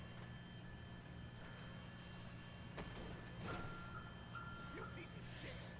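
A forklift in GTA 5 Online sounds faint, repeated electronic reversing beeps over a low engine hum, with a voice talking alongside.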